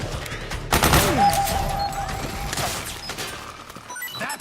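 Gunfire in Metal Gear Solid 4 during a firefight, a loud burst of rapid shots near the start followed by continuing combat noise and a whooshing projectile sound.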